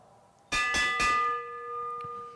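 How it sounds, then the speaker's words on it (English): Lap bell at a track cycling race, struck three times in quick succession and then left ringing with a long metallic hum, followed by one lighter tap, loud and close over faint arena background. "Here comes the bell."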